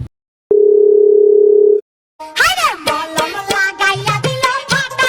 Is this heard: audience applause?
no